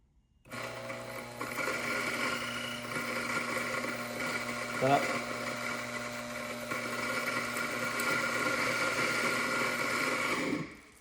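An Eureka Mignon coffee grinder runs in manual grinding mode, a steady close motor whir that starts abruptly, holds for about ten seconds with a brief rattle midway, then cuts off.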